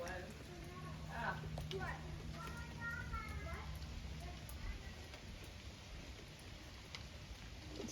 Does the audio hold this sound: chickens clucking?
no